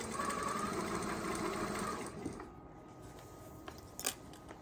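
A domestic sewing machine stitching a beginner dining scarf at 1,000 stitches per minute, making a steady, fast, even whirring hum for about two seconds before stopping, followed by a quiet room with a couple of faint clicks.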